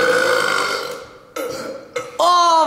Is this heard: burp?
yes